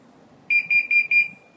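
A Scorpio R Link car alarm gives four quick, sharp electronic beeps in a steady rhythm, loud and close, and the last tone trails off briefly after a quiet start.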